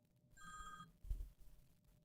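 A telephone ringing while a call is placed back to someone, one short electronic ring tone heard faintly, followed by low muffled handling noise and quiet.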